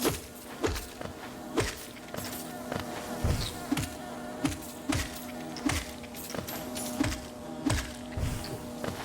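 Bees buzzing in Hollow Knight, a steady insect drone with a low hum under a regular series of thumping footsteps or hits, about one every second.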